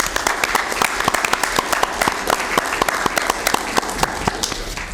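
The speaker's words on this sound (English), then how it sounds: "Round of applause." Applause from the audience at a Sacramento County Board of Supervisors meeting, a steady patter of many hands clapping with sharp individual claps standing out, moderately close and continuous throughout.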